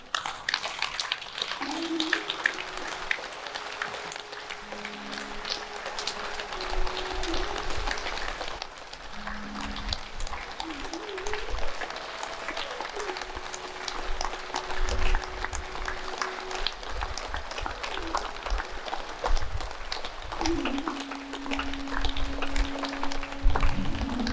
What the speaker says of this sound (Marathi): टाळ्या वाजवत नृत्य करायचे